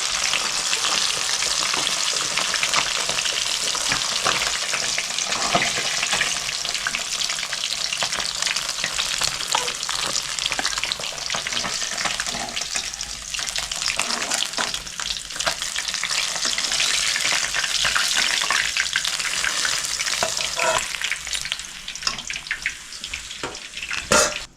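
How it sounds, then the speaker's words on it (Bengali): The remaining pieces of fish fry in a pan of oil, a close, continuous crackling sizzle with bursts of spatter that dips midway and swells again, no talking over it. "বাকি দুটো ভেজে নিচ্ছি।"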